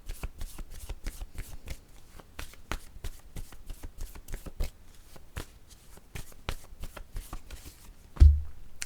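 Cards shuffled for a tarot-style card reading, a quick run of crisp riffling bursts repeating steadily and close, with a louder thump near the end and no talking.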